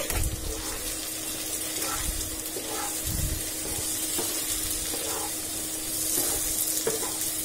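Garam masala being stirred into a frying baingan aloo sabzi of eggplant and potato, with a steady sizzle and intermittent scraping stirs of the spoon through the pan, close and continuous.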